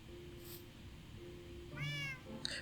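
A cat in a video game lets out a short meow near the end, faint and clear over a low steady hum of game ambience.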